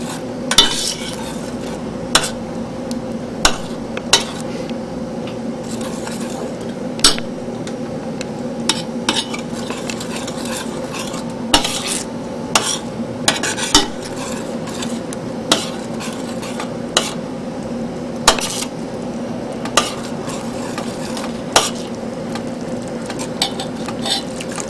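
A spoon scrapes and clinks against a pan while brown gravy is stirred and thickened, giving sharp metallic taps at irregular intervals over a steady low kitchen hum, close by with no voices.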